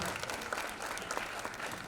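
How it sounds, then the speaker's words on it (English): Audience applause at a launch event for Audible Suno, a steady, faint wash of crowd clapping that holds at an even level throughout. "Could we have a huge round of applause, ladies and gentlemen?"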